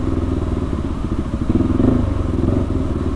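A 2022 KTM RC 390 with a cat-delete exhaust runs close by, its engine note pulsing with quick throttle blips and a rough, crackling exhaust throb that swells midway through.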